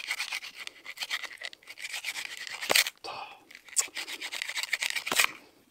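A wooden spindle rubbing against a baseboard in a bushcraft friction-fire attempt, giving rapid scratchy back-and-forth strokes in bursts, with a few sharp knocks as the spindle slips out of the groove.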